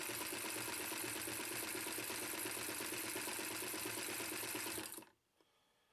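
A vintage sewing machine fitted with a zigzag attachment runs fast and steadily, its rapid mechanical chatter and whir close and continuous for about five seconds before stopping abruptly.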